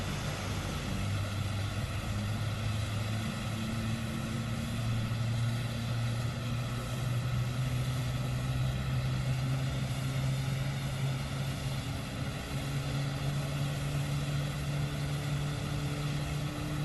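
Jet airliner engines spool in a PMDG flight simulator during pushback and start at Seattle, a steady loud turbine drone with layered tonal hums that shift pitch slightly as power builds, continuous throughout with no talking.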